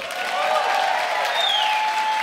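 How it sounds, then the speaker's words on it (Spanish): A television show studio audience gives sustained applause, a continuous even roar of clapping with faint crowd noise mixed in, staying loud throughout. "¡Un aplauso fuerte!"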